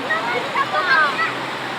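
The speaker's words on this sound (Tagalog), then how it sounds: "Oh, grabe ang agos sa tubig dito." Strong, fast river current rushing over rocks in Laguna, a loud, dense roar of water with bright gurgling splashes, close by, steady throughout.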